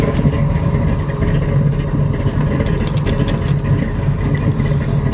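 A 1969 Chevrolet Camaro with a 468 big-block engine runs on a cold start, a loud, dense, rough idle that rumbles steadily without a break.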